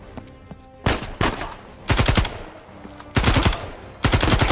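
Gunfire in Uncharted 4: A Thief's End, loud close bursts of rapid shots in four separate volleys with brief pauses between, over a low background hum.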